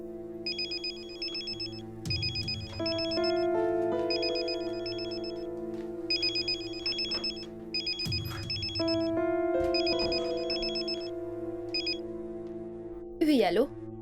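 A telephone rings with a repeating electronic tune in evenly spaced bursts, and music and scattered voices play underneath.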